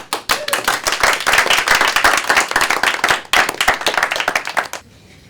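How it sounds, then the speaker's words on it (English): A workshop group claps together in brisk, close, uneven handclaps that swell into a full burst, hold steady for several seconds, then stop abruptly into quiet. "Everyone can clap."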